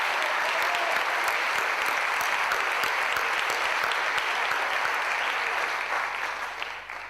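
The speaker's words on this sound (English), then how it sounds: "we can give them one round of applause" A full, steady round of audience applause at a launch event, dense clapping sustained for several seconds before tapering off at the end.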